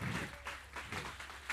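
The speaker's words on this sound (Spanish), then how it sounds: "un aplauso para los papás de Daniel" Applause for a boy's parents at a school promotion ceremony, a faint, distant and steady wash of clapping from an audience that lasts under two seconds.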